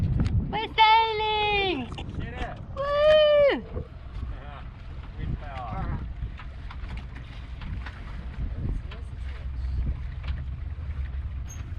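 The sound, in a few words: sailboat sailing under wind power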